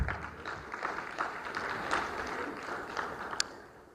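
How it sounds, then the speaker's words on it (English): A conference hall audience at a ministerial meeting of landlocked developing countries gives a faint, scattered round of applause that stays soft and distant for several seconds. "I thought you'd applaud."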